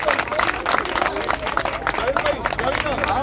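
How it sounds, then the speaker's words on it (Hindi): A crowd at a sit-in protest outside parliament claps steadily and densely throughout, under loud voices and babble close by. "एक बार बहनों के लिए भरपूर तालियां बजाएं।"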